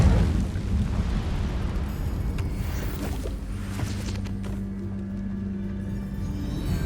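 Incendio fire spell cast in Hogwarts Legacy, a loud whooshing roar of flame that bursts at the start and then settles into a sustained rumbling burn.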